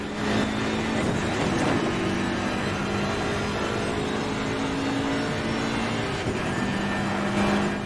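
A race car engine roars steadily at the race start in Assetto Corsa Competizione, a loud sustained drone with slight pitch shifts as it accelerates, other cars audible around it.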